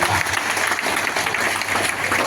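A crowd at a public speech claps loudly, a dense, steady wash of applause that runs unbroken for a couple of seconds.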